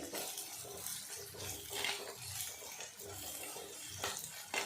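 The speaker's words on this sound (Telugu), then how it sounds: "అల్లం వెల్లుల్లి పేస్ట్ పచ్చివాసన పోయేంత వరకు వేయించుకోవాలి" Ginger garlic paste fries in a pan for a kohlrabi curry, a faint continuous sizzle with soft stirring scrapes and occasional utensil clinks throughout.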